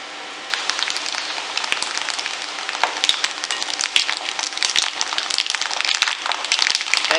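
Mustard seeds and chana dal crackle and pop in hot wood-pressed oil, giving a dense, steady sizzle broken by sharp little spits. The sound is close and continuous, with no talking.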